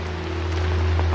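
Heavy downpour of rain in a wuxia TV drama scene, a steady dense hiss of rainfall with a low rumbling undertone, continuous and loud throughout.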